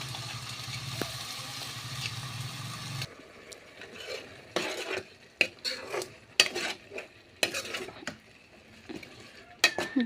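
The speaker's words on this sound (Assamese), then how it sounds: "গোটেইখিনি দি লোৱাৰ পিছত এনেকৈ অকণমান ভাজি লৈছোঁ" Meat with mustard paste, garam masala, meat masala and red chili being stirred and fried in a pan: a low steady sizzle first, then irregular scraping and clattering strokes of a spoon against the pan, close by.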